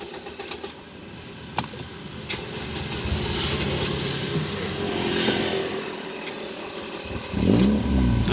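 A Toyota Vios Gen 2 that had been stalling with its idle dropping is cranked and started, settling into a steady low idle hum that swells near the end, with no voices.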